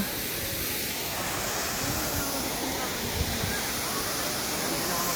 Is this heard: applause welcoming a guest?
no